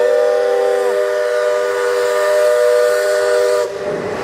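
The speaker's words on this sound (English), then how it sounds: "You just heard the steam whistle and the big brass bell, Shadow Black Mustang." Steam locomotive whistle at Walt Disney World's Magic Kingdom, a loud sustained chord held for over three seconds over a ringing brass bell, cutting off abruptly at the end.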